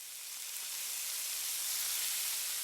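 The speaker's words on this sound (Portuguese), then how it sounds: "esse áudio, na verdade, é de ovo fritando" A steady, bright crackling hiss of an egg frying in a pan, uniform throughout and rising slightly in loudness, with no voices.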